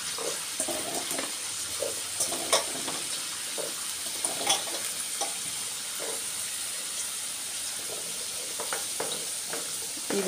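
Amla pickle ingredients fry in a pan while being stirred, giving a continuous close sizzle broken by scraping stir strokes and little clatters at irregular intervals.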